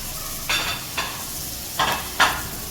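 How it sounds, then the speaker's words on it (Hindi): Bitter gourd frying with a tablespoon of freshly ground spice masala over a medium flame: a constant low sizzle broken by four short scraping stirs, spaced unevenly, with no talking. "और करेलों के साथ जो है वो मैं 1 टेबलस्पून मसाला जो भी हमने पीसा है वो ऐड करूँगी और इसे अच्छे तरीके से फ्राई कर देंगे।"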